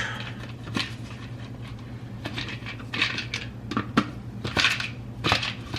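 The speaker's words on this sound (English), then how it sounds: "Blend for 30 seconds or until ice is fully crushed." A Nutri-Ninja blender crushes ice in a home kitchen, giving a loud, uneven grinding clatter with repeated sharp knocks of ice against the blades and jar over a steady motor hum.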